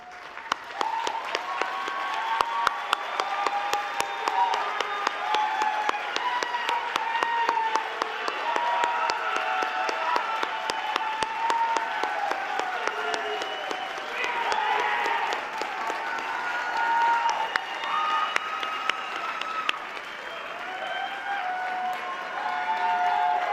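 A large graduate convocation audience gives sustained applause, a steady dense wash of clapping with scattered cheers that holds for a long stretch at even volume across a big hall.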